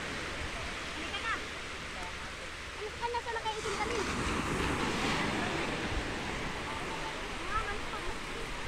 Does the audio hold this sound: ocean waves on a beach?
yes